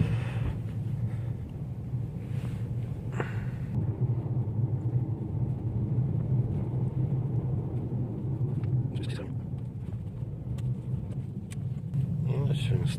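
A car's engine rumbles steadily from inside the cabin as it is driven slowly and parked in an empty lot, a low continuous drone with occasional bumps and clicks.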